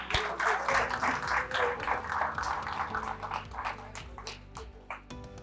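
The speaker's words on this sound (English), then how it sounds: "Give her a round of applause" A group gives a round of applause for a girl at a community conversation on bullying, dense clapping that starts at once and then thins to scattered claps before fading.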